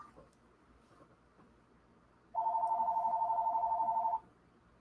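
A phone rings in a courtroom setting, an electronic trilling tone that starts abruptly and runs for about two seconds before cutting off, with soft room noise around it.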